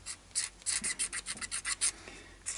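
A metal blade scraping across the bridge of an electro archtop acoustic guitar during a modification, giving a close series of short rasping strokes in quick, uneven rhythm, with no talk.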